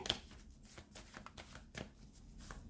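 Oracle cards being shuffled for a tarot-style reading: quick riffling bursts of card edges slapping together in an uneven rhythm, close but quiet, with no talking.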